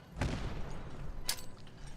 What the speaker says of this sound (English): I'll just throw a grenade for the fun of it.